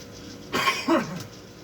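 Two quick, raspy coughs close by, then quiet room tone.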